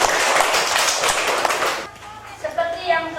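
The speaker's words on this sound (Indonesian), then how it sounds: "Tepuk tangan dulu untuk kita semua." Fourth-grade pupils clap their hands together in a classroom, a dense burst of claps lasting under two seconds before it stops and a voice speaks.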